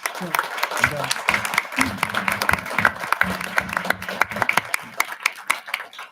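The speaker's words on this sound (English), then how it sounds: "So if we can just applaud those students." Scattered applause for students at a board of education meeting: uneven, moderately loud clapping from a modest group, with a voice talking over it early on before the claps thin out.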